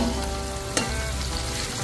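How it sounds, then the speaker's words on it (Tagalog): Steady close sizzling and crackling of fish frying in hot oil, with a brief sharp clink partway through. "habang nagpiprito tayo dito"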